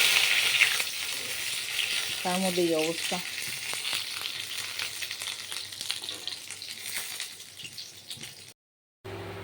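Bora fritters frying in a pan make a steady hiss and sizzle, with a person speaking briefly partway through before the sound cuts off near the end.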